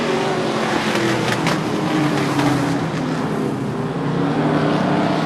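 Race cars on a short oval during an eight-lap qualifying session roar continuously, a loud, dense engine drone that swells as the field passes close by, with no talk.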